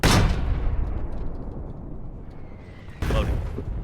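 Artillery shells land and burst in the Foxhole war game: a heavy, booming explosion opens, a broad rumble rolls on and fades, then a second loud impact hits near the end.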